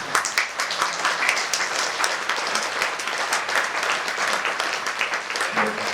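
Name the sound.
audience clapping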